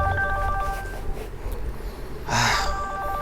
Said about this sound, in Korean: 핸드폰 벨소리가 요란하게 울리는 겁니다.